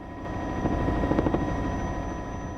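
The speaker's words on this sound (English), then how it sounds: "Black Hawk helicopters managed to cut through 50-mile-per-hour winds to reach the summit." A Black Hawk helicopter battles 50-mile-per-hour winds near the summit of Mount Hood, its rotor thudding in a steady, loud drone under a continuous engine whine, with no voices.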